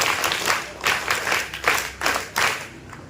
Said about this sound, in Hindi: Three claps.